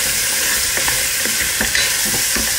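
Spoon stirring Arab spices and black pepper into a sizzling pot for oat soup with meat, giving soft repeated scraping strokes over a steady frying hiss, no voices.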